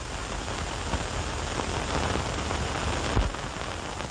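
Steady rain falling outdoors, a dense even hiss that holds at one level throughout, with a brief louder swell near the end and no voices.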